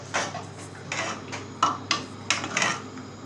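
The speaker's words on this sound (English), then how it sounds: "We'll stir that round now." Sweet chili sauce being stirred in a pan, a utensil scraping and knocking against the metal in a series of uneven strokes, close and moderately loud with a low steady hum beneath and no talking.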